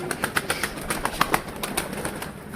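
Pigeons, including a stray caught on the street, peck at scattered feed, making scattered light taps and soft rustling close by over a steady outdoor hiss, with no talking.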